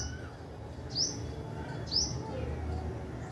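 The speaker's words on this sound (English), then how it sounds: "good morning, little birdie. Yeah, pretty little bird" A small bird gives two sharp, bright chirps about a second apart, near and clear over a low steady background hum, with no talk during the calls.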